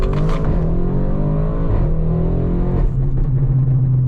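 A 750 hp Audi RS6 engine revs hard while driving, a loud, close, continuous roar that shifts pitch as the car accelerates through gears.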